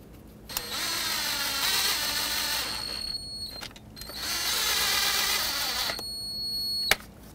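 A new ignition coil on a Chevrolet Express is bolted back on with a small power driver in two sustained whirring runs of about three seconds each, close and fairly quiet, each ending in short clicks.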